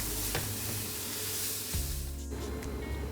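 Mushrooms for Beef Wellington sizzle loudly and continuously in a pan while being stirred, with a few scraping strokes cutting through the hiss.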